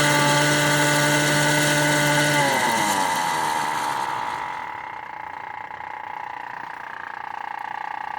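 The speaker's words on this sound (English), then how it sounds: "Here, motor is more noisier, and that's the top speed." Homemade electric motorcycle motor whining at top speed on a DIY controller, a loud steady tonal hum that drops in pitch and fades partway through, with no voices.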